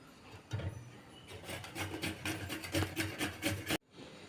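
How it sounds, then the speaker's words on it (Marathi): Fresh ginger is rubbed on a hand grater for a turmeric pickle, a close, soft rasping in quick repeated strokes that ends abruptly. "आता अशाच पद्धतीने आलंही मी खिसून घेणार आहे"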